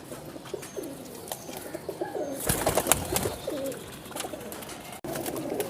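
Pigeons coo in a breeding loft of high-flying Teddy pigeons, with soft repeated coos and scattered chirps close by, a busier stretch of calls in the middle and steady background rustle.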